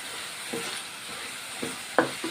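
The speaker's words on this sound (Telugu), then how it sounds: "ఆయిల్లో ఇలా మగ్గించుకుందాం." Raw banana curry frying in oil gives a low, steady hiss, with a few quick spatula taps and scrapes standing out near the end of a brief stretch.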